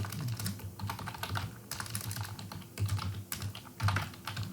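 Fingers tap out C code on a computer keyboard, quick uneven bursts of soft clicking with brief pauses, close and fairly quiet, with no speech.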